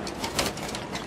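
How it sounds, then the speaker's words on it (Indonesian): Domestic grey pigeon cooing close by in a short burst of soft, throaty murmurs over a busy background hiss, with no talk. "ini adalah merpati ternakan saya ya teman-teman"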